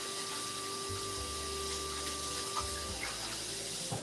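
Tap water runs steadily while thick steaks are rinsed in a kitchen sink, a constant soft stream with a low pump-like hum underneath, fairly quiet and close.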